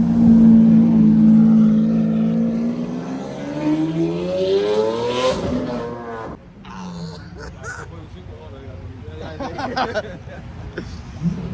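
Lamborghini Aventador V12 engine at a Miami car show, a loud low droning rumble that sweeps upward as it revs and then drops away, with crowd chatter and voices underneath and around it.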